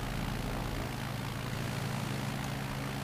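A Cirrus SR22 propeller engine drones steadily in Microsoft Flight Simulator, a constant loud hum with no pauses and no talk.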